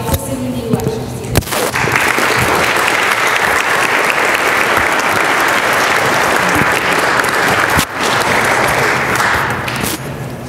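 An audience claps loudly and steadily to welcome lecturer Father Coyne to a community lecture series, a dense sustained applause with a few brief thumps and faint voices at the edges.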